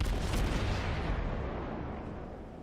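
Naval guns boom from a Kuma light cruiser in World of Warships, a dense, rumbling barrage of heavy shots that stays loud and steady before slowly fading, with no talking.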